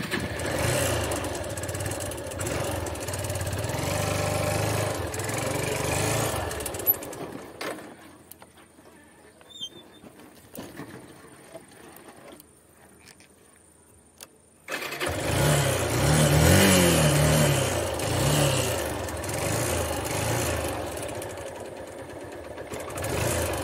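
A car engine that earlier overheated after running out of engine oil and now makes noise runs steadily and loudly nearby, cuts to near silence for several seconds, then rumbles back to a strong idle.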